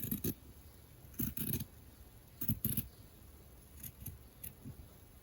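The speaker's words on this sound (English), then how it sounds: "you go on to cut the extra piece on the two ends" Scissors snip through layered paper and fabric while trimming the ends of a hand-sewn breathable face mask, producing several short clusters of close crisp cuts separated by pauses, with no talk.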